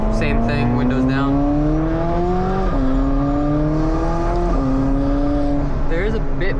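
A McLaren 750S engine and exhaust are heard with the windows down. The engine climbs steadily in pitch, with two shifts breaking the rise, and boost noise sits over a continuous loud drone.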